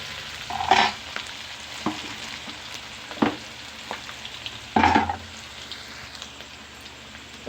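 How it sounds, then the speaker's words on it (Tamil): Chopped onion and curry leaves sautéing in a pan: a soft, steady sizzle broken by a few sharp scrapes and clacks of stirring, heard up close. "ஒரு வெங்காயம் போட்டிருக்கேன். கொஞ்சம் கருவேப்பிலை கொஞ்சம் நல்லா வதங்கணும்."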